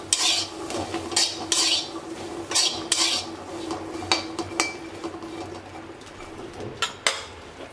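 A pot lid lifts off and small unpeeled potatoes are stirred in the pot, producing sharp metallic clanks, scraping and rattling in irregular bursts, with a brief ringing clink near the end and no voices.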